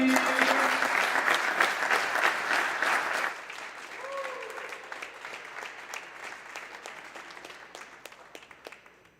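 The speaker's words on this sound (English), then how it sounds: "please give a round of applause" An indoor squash event crowd applauds a player being introduced at a national league draft, a dense wash of clapping that is loud at first, then thins and fades to scattered claps.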